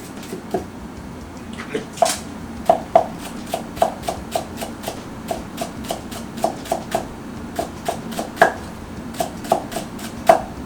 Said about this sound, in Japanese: まずネギ、ニラ、こちらから切っていきますね。 ネギはね、この間言ったみたいにみじん切りです。